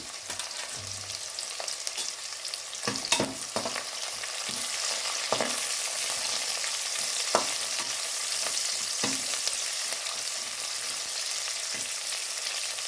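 Green chilies, dried red chilies, curry leaves and coriander sauté in hot oil, giving a steady close sizzle with occasional stirring clinks and scrapes throughout.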